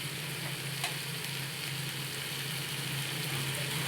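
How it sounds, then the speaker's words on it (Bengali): Sweet pumpkin, potato and chickpea curry frying in a pan, giving a steady, even sizzle that holds throughout at moderate level, with one brief clink of stirring partway through. "আমি আর একটু নেড়ে চেড়ে কষিয়ে নেব"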